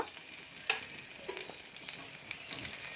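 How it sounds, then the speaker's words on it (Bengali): Crushed garlic and dried red chilli frying in hot oil as a tempering for a spinach dish, giving a steady close sizzle with light crackles and faint stirring, no voices. "ভালোভাবে তেলটা গরম করে নিয়ে এবার আমি ফোড়ন দিয়ে দেবো ফার্স্টই দিয়ে দেবো থেতো করা রসুনটা তারপর দিয়ে দেবো শুকনো লঙ্কা"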